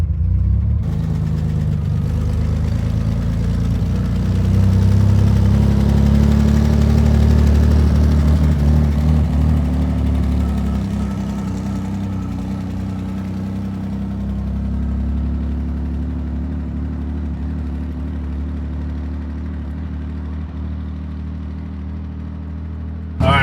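A Chevrolet Corvair engine with a sticking throttle runs continuously, a low rumbling idle that swells into a louder rev around the middle and then settles back to a steady drone, close by with no voices.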